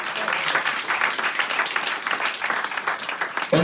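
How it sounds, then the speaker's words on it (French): Steady applause from a church congregation, dense clapping that holds for several seconds before a voice cuts in at the very end. "Applaudissez Jésus."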